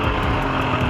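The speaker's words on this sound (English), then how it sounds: "The sled is running good once again." Yamaha Viper 700 snowmobile engine idling steadily after a carburetor cleaning, a continuous loud low rumble with a dense buzzing drone and no break or voice over the short stretch.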